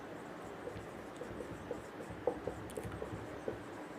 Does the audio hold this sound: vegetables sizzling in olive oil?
no